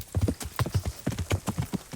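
Horse hooves clip-clop at a quick, even riding pace on a main road in Kingdom Come: Deliverance, crisp and close with no talk over them.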